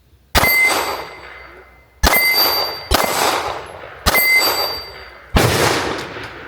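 A 2011-style pistol fires at steel targets outdoors: five sharp shots spaced about a second apart, each followed by a bright metallic ring that decays slowly.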